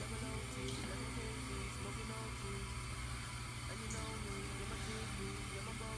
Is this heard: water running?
yes